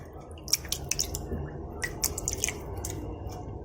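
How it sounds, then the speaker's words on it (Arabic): Rice is washed by hand in water to rinse off the starch, giving soft, irregular splashes, drips and squishes heard close up and quietly. "دابا انا كنغسلو باش نحيد منه النشا، نبقاو نغسلو فيه حتى نحصلو على الماء صافي"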